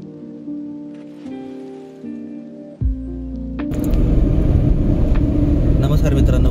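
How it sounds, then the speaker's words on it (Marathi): Heavy monsoon rain heard from inside a car on a Konkan ghat road: engine hum and a voice give way to a loud, dense, continuous wash of rain drumming on the car. "पाऊस तेवढा जोरात चालतोय ना,"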